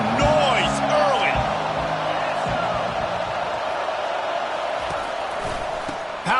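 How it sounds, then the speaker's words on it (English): A large college football stadium crowd at a Michigan versus Nebraska game roars and cheers loudly, a dense wash of noise with whoops that slowly eases, and an announcer speaks over it. "This crowd bringing the energy and noise early."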